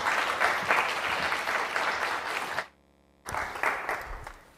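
A lecture audience applauds to welcome Professor Howard, a dense, loud wash of many hands clapping that stops abruptly for a brief silence, then resumes and gradually tapers off.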